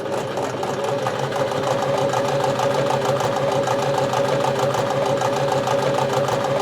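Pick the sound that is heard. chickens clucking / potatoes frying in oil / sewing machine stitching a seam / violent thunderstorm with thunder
sewing machine stitching a seam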